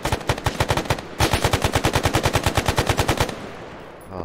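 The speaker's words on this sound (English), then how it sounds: "Stop shooting us!" Rapid automatic gunfire in the military shooter game Arma 3, long sustained bursts of evenly spaced loud shots with a brief pause, then fading into a low rumble.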